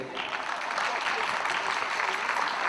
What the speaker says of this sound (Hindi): तालियों का योगदान रहे।